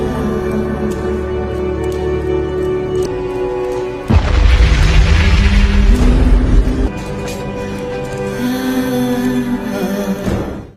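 A sudden heavy boom of a police station exploding erupts over steady background music, a loud low rumble sustaining for a few seconds before fading back under the music.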